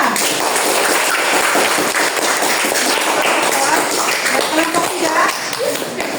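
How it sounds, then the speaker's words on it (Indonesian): Classroom applause for a student group during an Indonesian school lesson: dense, steady clapping from many hands that fills the whole stretch at an even level, with some chatter mixed in. "tepuk tangan kelompok dua"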